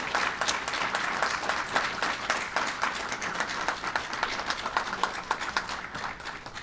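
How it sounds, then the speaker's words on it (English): A crowd at a Women's History Month ceremony in Chicago gives a round of applause, steady and full-bodied clapping that stays loud and even throughout without pause. "all of us give him a round of applause"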